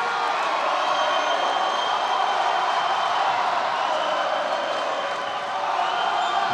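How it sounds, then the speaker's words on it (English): A basketball crowd cheers on the Knights in a Culver Academy versus Marian high school game, with a dense, steady roar of voices and scattered applause filling the gym throughout at constant loudness. "the crowd trying to encourage the Knights"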